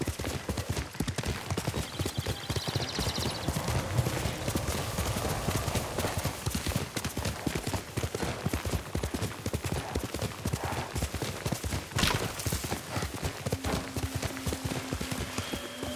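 Steady rapid clip-clop of a galloping horse's hooves in the Ghost of Tsushima video game, close and continuous over a faint ambient backdrop, with no speech.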